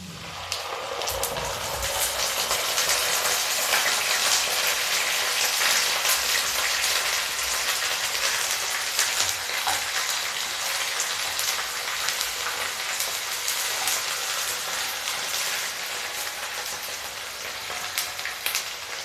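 Onion paste for jackfruit curry fries in a hot pan, giving a loud, dense, continuous sizzle close by that holds steady throughout with no talk.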